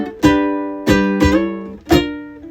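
Ukulele strumming a chord progression from a song: four separate strummed chords in a slow, even rhythm, each ringing out and fading. It is close and fairly loud, with no talking.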